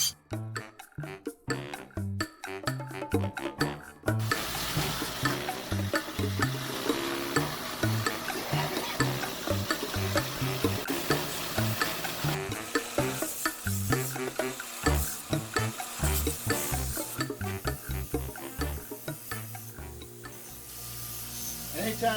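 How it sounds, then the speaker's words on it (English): A metal file rasps across hardened knife steel at a forge, skating over the surface in repeated scraping strokes, steady and close for the whole stretch with no voice over it. "It's just skating. It's skating that file."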